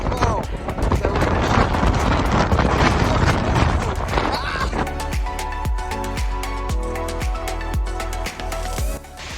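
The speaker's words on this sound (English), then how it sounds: "It's so windy, it's come out of nowhere." Strong wind gusts loudly at an Icelandic waterfall as a close, rushing roar, then eases into rhythmic buffeting while a person talks.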